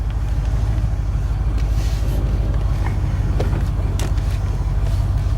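A 1982 Ford F150 pickup engine idles steadily up close, a loud low rumbling throb with an even rhythm and no voices over it.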